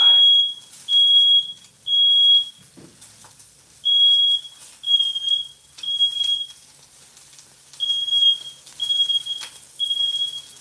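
A small household smoke detector set off by frying on a stovetop sounds loud, near, piercing beeps in a repeating rhythm of short bursts with brief gaps, alone in the room.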